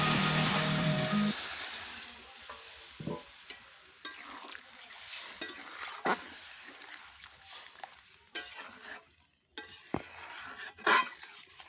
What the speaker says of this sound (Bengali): তেলের ওপরে আগে কুমড়োগুলো দিয়ে তারপরে সেই বাটাগুলো, তারপরে হলুদ লবণ দিয়ে কষিয়ে নিচ্ছি ভালো করে।